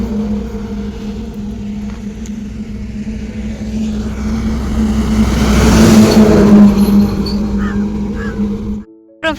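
New scooter engine running on a family ride, a loud steady drone with wind and road rumble swelling midway, close throughout before cutting out abruptly at the end.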